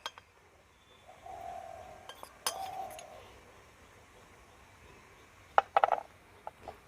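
A spoon clinks against a bowl while cornflour is spooned into a little milk, with a couple of faint taps early on and a cluster of sharper, close clinks near the end.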